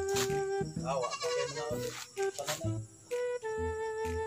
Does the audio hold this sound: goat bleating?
yes